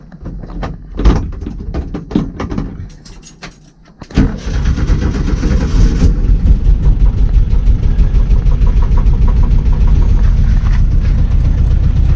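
A 1966 VW Beetle air-cooled engine on a fresh 6-volt battery: a few clunks and cranking sounds, then it catches and settles into a loud, steady, rattly idle close by.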